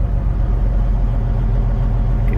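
The engine of a race toter truck bogs with a low, steady rumble that stays close and even, with no speech over it.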